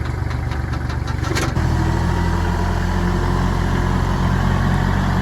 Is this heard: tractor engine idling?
yes